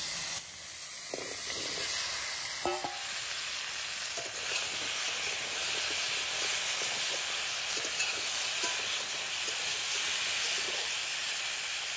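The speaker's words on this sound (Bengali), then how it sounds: "এখন দিয়ে দেবো আলু।" Potatoes fry in a hot pan with a loud, steady sizzle and hiss that barely changes throughout, plus a sharp clink near the start.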